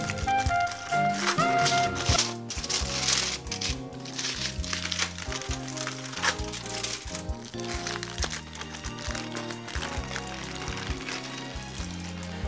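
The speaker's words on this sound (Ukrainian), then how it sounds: "Ну і тепер обережно будемо е, знімати фольгу із е, поверхні торта." Aluminium foil carefully peeled off the surface of a cake, a close, continuous crinkling and crumpling, loudest at the start and then softer, over faint background music.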